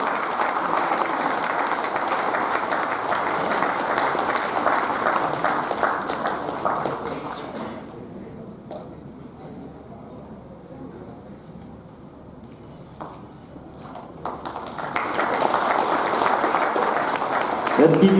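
Audience applause at a sports awards ceremony honouring National Games medallists fills the hall loudly, fades to a quieter lull in the middle, then swells back up toward the end.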